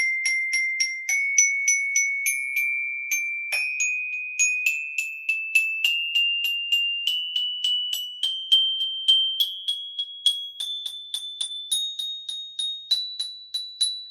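Bright metallic mallet percussion notes struck in quick groups of four climb steadily upward in a chromatic scale, each ringing clearly and alone.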